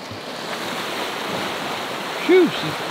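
Fast-flowing stream water rushing steadily in the Canadian Rockies, a broad continuous wash with a brief voiced sound near the end.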